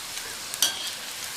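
Rava pakoda frying in hot oil in a home kitchen, a steady close sizzle with a light scrape of stirring partway through.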